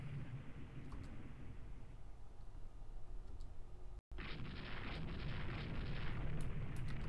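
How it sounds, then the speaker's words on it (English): Dense, rumbling booms and crackling bursts of naval gunfire and explosions in Rule the Waves II pile up continuously, briefly cutting out before resuming louder. "A little bit of gunfire happening this way and that."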